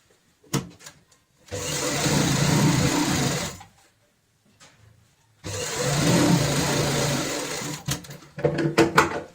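A sewing machine runs basting stitches on a cushion cover in two long, steady bursts separated by a pause, with brief clicks and handling noises between and after.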